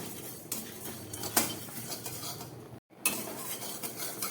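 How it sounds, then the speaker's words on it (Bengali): Cumin and coriander seeds dry-roasting in a hot pan, scraped and stirred with a utensil in close, scratchy bursts and light clinks, broken by a brief pause before the stirring resumes; no voices. "এরপরে আমি এখানে দু চামচ জিরে আর দু চামচ ধনে আছে এটাকে দিয়ে দিচ্ছি দিয়ে একটু শুকনো খোলায় ভেজে নেব"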